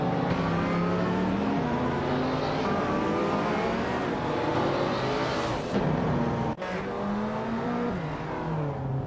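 A 1995 BMW M5 E39 racing with other cars in a video game at Bowman Gray Stadium, engines droning loudly and continuously with rising and falling pitch as they accelerate and shift.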